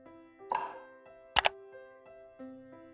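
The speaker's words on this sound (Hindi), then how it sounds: "कढ़ाई में डालेंगे गोश्त" Raw lamb pieces dropped into a karahi pot give a few soft, close plops and thunks, with one sharper clatter in the middle against a quiet background.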